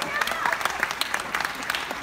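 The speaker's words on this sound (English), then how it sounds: "give them all a nice round of applause" Studio audience applause for game show contestants, fairly light, scattered clapping with distinct individual claps, heard under people talking and calling out.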